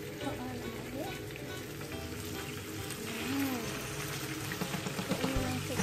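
Salmon pieces frying in hot oil, a steady loud crackling sizzle that stays close and continuous throughout, with faint voices speaking underneath.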